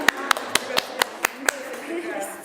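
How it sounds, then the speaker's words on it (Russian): A small group claps briefly for themselves, seven or eight sharp, separate claps spaced through two seconds, close and fairly loud, then trailing off into quiet room noise. "можете себе похлопать"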